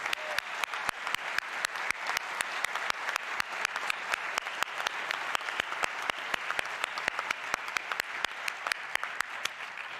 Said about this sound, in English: Let's give these faculty a large round of applause.